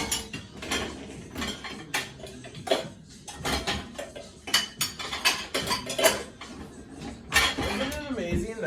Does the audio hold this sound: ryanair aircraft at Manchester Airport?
no